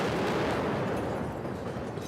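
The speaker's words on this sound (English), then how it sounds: "Another explosion rocks the besieged city of Mariupol." An airstrike explosion in besieged Mariupol gives off a loud, dense, sustained roar of rumbling noise that slowly eases, heard alone without voices.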